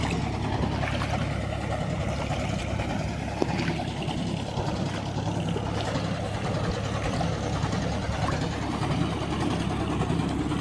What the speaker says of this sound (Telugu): ఇదిగోండి, ట్రాక్టర్ అక్కడ నీళ్లు పంప్ చేస్తుంది.